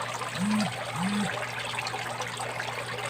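Water trickles steadily from a pond pump filter at a catfish pond, a continuous soft splashing flow with a low hum beneath it and no talking.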